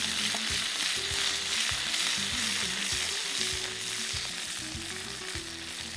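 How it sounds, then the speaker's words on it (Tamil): A handful of curry leaves fries in hot oil, a loud, close, continuous crackling sizzle with brief stirring scrapes, steady throughout with no voices. "கருவேப்பிலை நல்லா பொரிக்கிறோம்."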